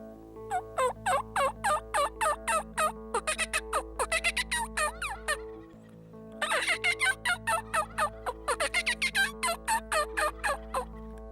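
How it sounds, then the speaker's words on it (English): Rapid rattling bursts of gobbling from several wild turkey toms across a meadow, some close and loud, others farther off, repeating in quick series with a short lull midway. "there's just toms going off all over this meadow"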